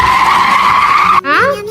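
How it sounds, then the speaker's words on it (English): A bus skidding out of control at speed, its tires screeching in a loud, steady squeal that breaks off abruptly and then resumes with a rising, wavering pitch. "The bus lost control, speeding dangerously."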